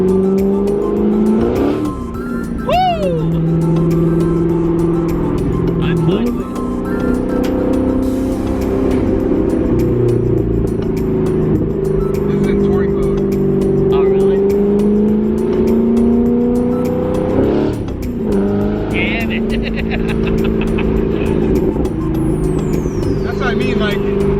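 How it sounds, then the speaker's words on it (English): A Corvette Grand Sport with the Stingray Z51 dry-sump engine pulls hard from inside the cabin, its deep exhaust drone rising and falling through several surges, with brief tire noise and people talking and whooping over it. "it's a Grand Sport, so it's got the Stingray Z51 dry sump engine"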